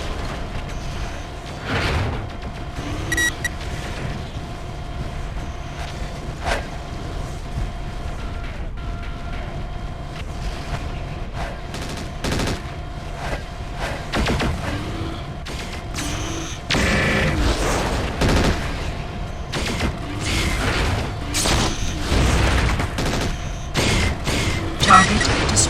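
Pulse laser volleys striking a mech in the 2000 game MechWarrior 4: Vengeance, heard as rapid sharp bursts and booming impacts over a steady mechanical hum, growing louder and denser toward the end.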